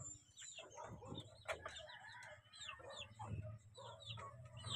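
Neighbour's chickens clucking and a rooster crowing nearby, with busy overlapping calls and chirps from other birds throughout.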